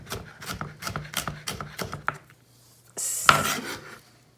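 A knife dicing green tomatoes on a cutting board, with about eight sharp, rhythmic chops up close, a short pause, then a brief scraping sweep across the board.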